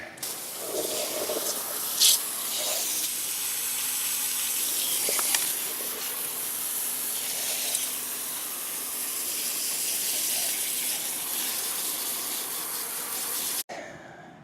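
Rubber cleaner sprayed onto a car tire, a steady broadband hiss of aerosol or trigger spray running almost continuously for about thirteen seconds at moderate level, with a few brief louder bursts and no talking.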